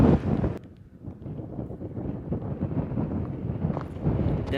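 Wind gusting across a hot, treeless, barren stretch of dirt trail near a highway exit, roaring steadily into the microphone with a brief lull before building again, no talking heard.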